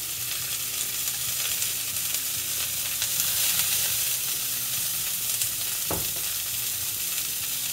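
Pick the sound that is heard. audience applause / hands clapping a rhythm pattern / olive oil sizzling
olive oil sizzling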